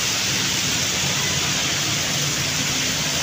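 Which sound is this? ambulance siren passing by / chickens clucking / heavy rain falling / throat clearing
heavy rain falling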